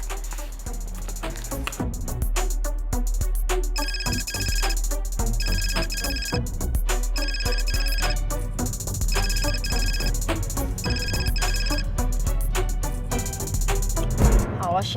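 A mobile phone ringtone plays in bursts while a call is being placed, repeating electronic tones in regular rings over a low background hum, with some talk mixed in.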